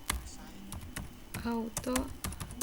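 Quick keystrokes on a computer keyboard while entering a VoIP IP phone configuration command, light irregular clicks close by, partly overlapped by a man's speech in the background.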